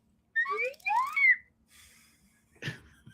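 Several mouth-whistled sliding tones, a sound-effects performer imitating a whistle, rising and falling in two quick bursts, followed by a short breathy rustle and a brief low thump.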